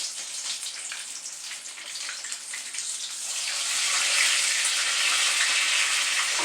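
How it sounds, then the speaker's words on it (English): Chimichangas laid into hot grease, a bright crackling sizzle close by that swells louder and denser partway through and holds steady. "so we're just going to take these and just lay them in the grease."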